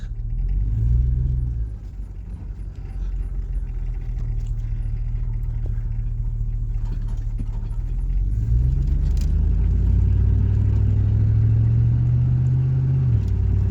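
Inside a squarebody GMC truck on a '99 Z71 chassis driving around the block, a steady low engine rumble rises as it pulls away and climbs through the revs, close and continuous with no talking.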